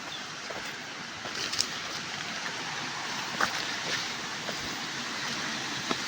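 Steady broadband rush of falling water at Gadgadi waterfall, a continuous even roar close by with no voices, only a few faint clicks over the constant wash.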